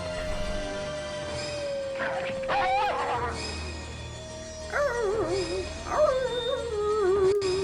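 A dog in the Gabriel Knight 2 adventure game gives wavering, high whining yelps and howl-like cries in several bursts over a low ambient hum, fairly close and moderately loud, with no talking.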